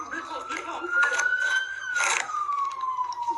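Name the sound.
emergency vehicle sirens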